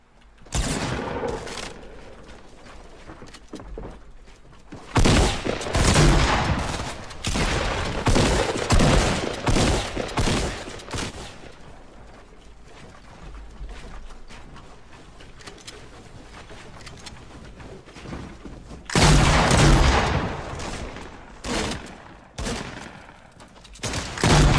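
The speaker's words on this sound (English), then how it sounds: "I just got shot at." Rapid bursts of shotgun fire in a video game with double-pump play, loud blasts in clustered volleys separated by quieter stretches of ongoing game noise.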